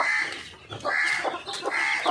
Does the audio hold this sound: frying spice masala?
no